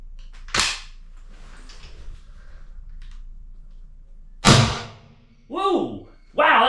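Umarex HDP-50 compact CO2 pistol fired indoors over a chronograph: two sharp, loud cracks a few seconds apart, with a person talking briefly right after.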